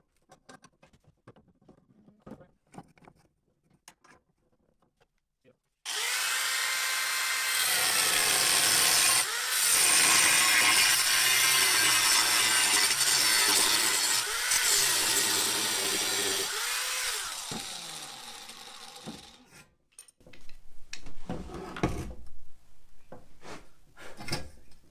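A saw cutting metal held in a clamp for a small rocket stove, producing a loud, steady rasping stretch of about eleven seconds that fades at the end, with quieter handling noises before and after.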